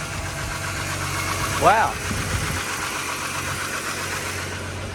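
A sludgy Ford BF XR6 six-cylinder runs steadily after its VCT solenoids are replaced, a close, slightly noisy idle hum. A brief spoken exclamation is heard partway through.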